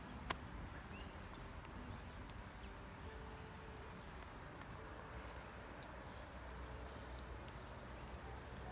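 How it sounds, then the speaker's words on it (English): Steady rain patters outdoors in late December, a continuous soft hiss with scattered drips and a faint bird now and then, no voices. "It's raining now."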